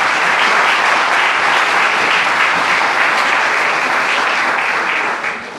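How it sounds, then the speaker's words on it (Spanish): Church congregation applauding during a service, a loud, sustained, dense roar of many hands clapping together that holds steady for several seconds before tapering slightly at the end. "Un aplauso para Isabela, un aplauso para el Señor."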